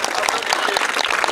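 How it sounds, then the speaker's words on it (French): An audience at a public awareness event in Mongala province, DR Congo, claps in a dense, lively burst, close and steady for a moment, with crowd voices mixed in. "Applaudissez."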